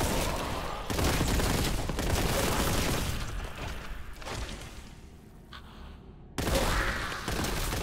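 Heavy bolter gunfire in Warhammer 40,000: Boltgun, a dense, sustained roar of rapid shots with thuds and crashes, broken by a brief lull before the firing surges back loud.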